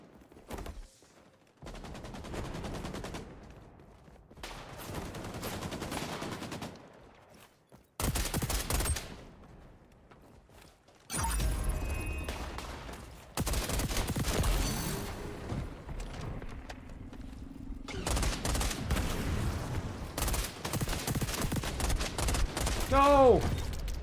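AK rifle gunfire in the video game XDefiant, repeated bursts of rapid shots separated by short silences, loud and close, with other game noises mixed in.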